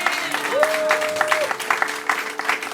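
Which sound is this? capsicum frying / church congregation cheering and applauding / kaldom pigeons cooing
church congregation cheering and applauding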